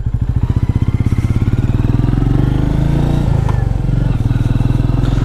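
A Royal Enfield Meteor 350 thumps along on the ride, its single-cylinder exhaust pulsing loud and close in a steady beat, briefly dipping as it shifts, with a voice faintly over it.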